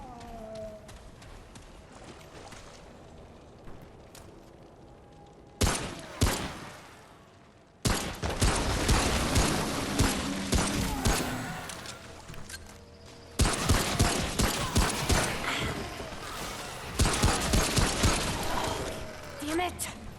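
Gunfire in the video game Remnant: From the Ashes comes in rapid bursts of sharp shots, quiet at first, then loud volleys with pauses between them, mixed with game sound effects and someone speaking over it.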